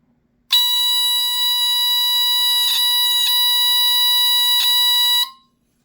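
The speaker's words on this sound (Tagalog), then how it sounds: "when the relay is activated or triggered, the contacts will close, so the buzzer sounds" Electric buzzer wired to a relay sounds a continuous loud, harmonic-rich tone for about five seconds, with a few brief clicks along the way, before cutting off abruptly.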